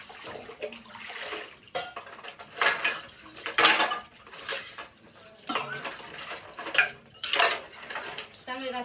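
A big pile of dishes and pots left from making puran poli is washed by hand: close, repeated metallic clanks and scrapes come in bursts over trickling water.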